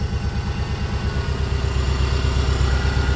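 A 2000 Subaru Forester engine idles steadily with a low, even rumble after an alternator change, close by, continuous for a few seconds with no talking.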